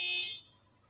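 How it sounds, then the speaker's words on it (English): A high electronic alarm beep sounds once from a neighbour's car nearby, a short piercing tone that fades quickly, faint and somewhat distant. "someone in my area, their alarm went off"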